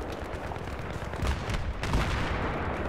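Heavy tank cannon fire and battlefield gunfire in Battlefield 3 multiplayer on the Noshahr Canals map, a dense continuous barrage of booming low-end blasts with thumps building after the first second, no talk.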